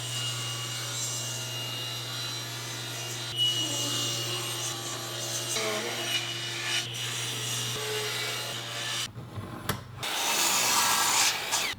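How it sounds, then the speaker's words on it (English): A saw ripping upper and lower table rails from a board held against the fence, a continuous steady cutting drone with a low motor hum that cuts out near the end before a brief louder burst. "With the freshly edge jointed side up against the fence, I'm going to rip off the upper and lower rails for the table."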